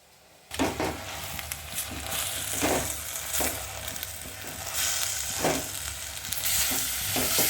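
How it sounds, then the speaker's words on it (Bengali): Chicken sautés in butter with pepper in a pan, a loud close sizzle that starts abruptly, with repeated stirring scrapes and swells of frying noise throughout. "চিকেন হালকা সতে করছি।"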